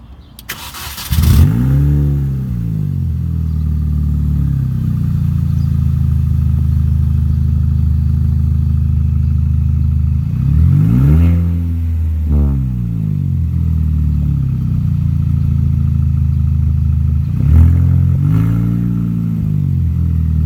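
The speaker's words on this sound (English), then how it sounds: "I'll go ahead and start it in the car, maybe do a little bit of rev" A straight-piped R53 Mini Cooper S engine cranks and catches loudly, settles into a rumbling idle, then gets a few sharp revs that rise and fall.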